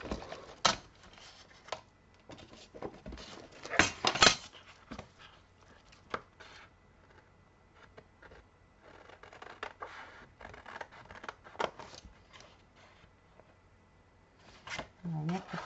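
Scissors snipping paper for a handmade Christmas album, a series of soft, close cuts and crinkles in an otherwise quiet room, with some speech.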